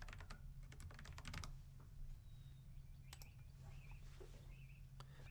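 Rapid clicks of typing on a computer keyboard into a search bar, a quick burst of keystrokes followed by a few scattered taps, faint and close in a quiet room.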